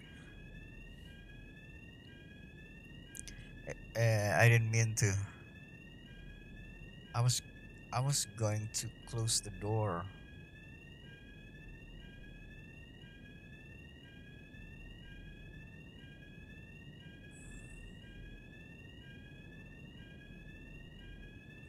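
Fire alarm ringing in the Hitman 3 video game, set in Mendoza, Argentina: a steady, rapidly repeating electronic whoop that runs the whole time at moderate level, with someone talking over it for a few seconds early on.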